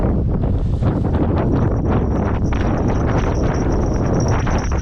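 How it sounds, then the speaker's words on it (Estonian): Strong stormy wind buffets a microphone outdoors by the water while fishing, a loud continuous roar and rumble that covers the whole stretch, with no clear talking. "Raju tuul, vihm."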